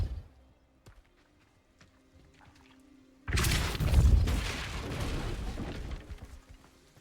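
Depulso force spell cast in Hogwarts Legacy, a sudden loud booming blast after a quiet stretch that rumbles and fades over several seconds.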